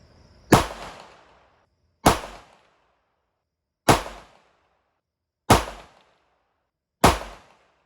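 A CZ Checkmate pistol fired at a shooting range: five loud, sharp gunshots spaced about one and a half seconds apart, each with a short ringing decay into near silence.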